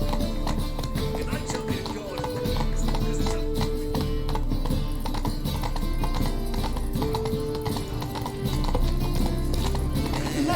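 Roach the horse clip-clops along with steady hoofbeats and a snort or whinny in The Witcher 3, under game music and ambient sound, while a voice speaks briefly.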